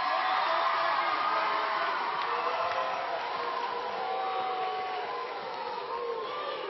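Live audience gives a sustained round of applause with cheering and whoops, a dense crowd roar that holds steady for several seconds and eases slightly toward the end.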